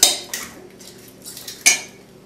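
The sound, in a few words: cracking an egg into a bowl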